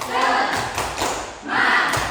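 A primary school class does a rhythmic 'tepuk semangat' spirit clap, filling the room with loud bursts of many hands clapping together in two swelling waves, with voices mixed in.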